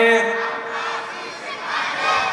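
A large crowd at an Islamic waz sermon shouts a takbir response in unison, a loud, dense roar of many voices sustained throughout and swelling again near the end.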